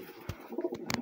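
Soft pigeon cooing, brief low coos close by, with a few faint rustles in a quiet setting.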